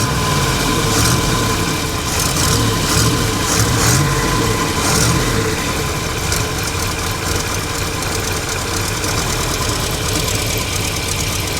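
A 1969 GMC truck engine idles steadily just after its first start in thirty years, a continuous rough low rumble with faint knocking, close and loud throughout with no talk.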